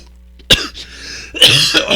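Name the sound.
cough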